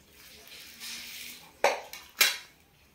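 Steamed kadubu being lifted out and set on a plate brings a soft scrape followed by two sharp clinks of metal utensils and dishes, close and otherwise quiet.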